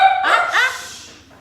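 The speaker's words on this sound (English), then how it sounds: "There goes the dogs." Dogs bark in two quick sharp yelps near the start, close and fairly loud, with a kitchen hum fading beneath as the barks trail off.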